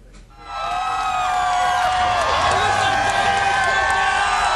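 Crowds gathered around the country cheer the Supreme Court same-sex marriage ruling, a loud sustained roar of voices and whoops that swells after a quiet start and holds steady.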